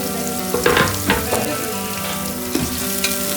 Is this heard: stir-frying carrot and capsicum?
yes